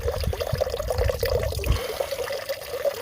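Clean water trickling steadily through a gravity-fed Katadyn BeFree filter on a trail, a continuous close, moderately loud flowing and dripping sound with no talking.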